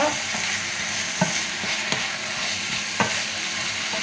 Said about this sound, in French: Et on va laisser mijoter comme ça.